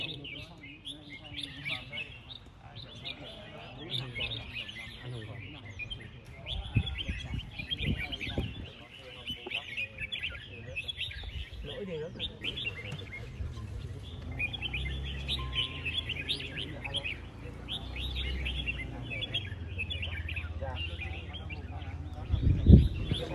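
Red-whiskered bulbuls sing at a bird song contest for caged birds, their bright chirping phrases continuous and layered over a crowd's background murmur and talk throughout.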